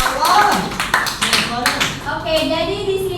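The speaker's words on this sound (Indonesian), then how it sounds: "tepuk tangan" Students in a classroom clap their hands in scattered, uneven bursts close by, with a voice talking over the clapping.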